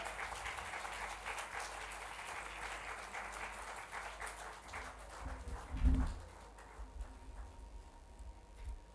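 Sustained applause from a stage audience greets a judge for a mock people's court, a dense steady crackle of many hands, with a heavier thump near the middle and no talk.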